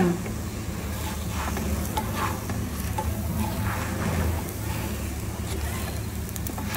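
Puri cooking on a flat iron tawa over a low flame, giving a soft, steady sizzle and faint crackle close by that stays even throughout with no talking.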